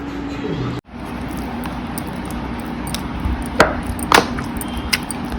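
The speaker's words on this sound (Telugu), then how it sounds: "ఈ దోసకాయని టమాటాలని ఇలా వేసుకొని దంచుకుందాం" A few dull, scattered thumps of cucumber and tomatoes being pounded in a stone mortar, heard over a low steady background hum.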